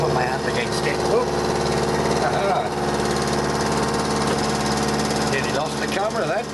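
Milling machine cutting metal with a steady, loud mechanical drone and a constant rattle from the top of the mill, while a voice is heard faintly now and then beneath it.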